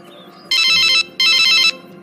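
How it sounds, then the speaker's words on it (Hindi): A phone ringtone sounds in two loud, bright electronic bursts with a short gap between them, close by against a quiet room. "अरे ये तो दामाद जी का फोन है।"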